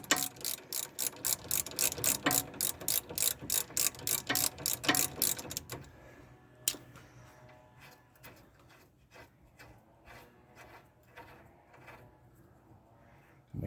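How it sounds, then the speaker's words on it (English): A ratchet wrench backs out the upper 3/4-inch sway bar end link bolt on a full-size Jeep Grand Wagoneer: about six seconds of rapid, even, close clicking, then softer rattling and handling noises. "we're going to go ahead and remove the upper bolt"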